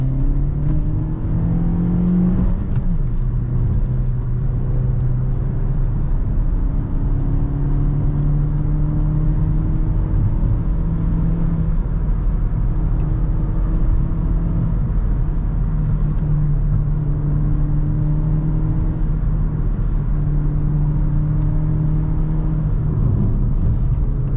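A Suzuki Vitara with a 1.4 Boosterjet engine pulls at full throttle, its loud, steady drone rising and dropping with gear changes under continuous road and wind rumble, heard from inside the car with no talk.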